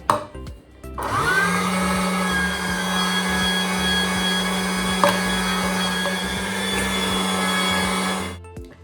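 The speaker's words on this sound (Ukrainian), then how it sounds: "Ми пропустили суміш через м'ясорубку." Liver minced in an electric meat grinder for oven-baked pâté: a steady, loud motor drone starts after a second and runs evenly for about seven seconds before cutting off, with no talking.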